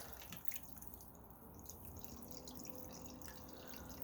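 Steady trickle of running water from a pumped backyard fountain with light dripping and splashing, continuous and fairly soft, recorded outdoors.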